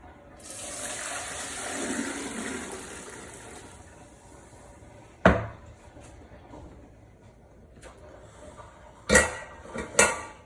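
While beef broth is made, water runs and swirls as a pot is emptied and rinsed, then sharp metallic clanks ring out as the pot is knocked and set down near the end.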